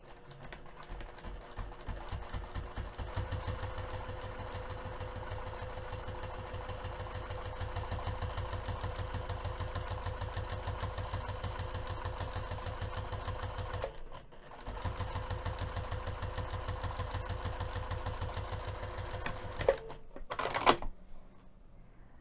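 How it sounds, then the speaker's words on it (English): A sewing machine top-stitches zipper tape down with coordinating thread, running in a fast, even mechanical patter. It makes a long run, stops briefly, runs again, then stops for good with a few clunks at the end. "we're going to take this over to the sewing machine and top stitch that zipper tape down"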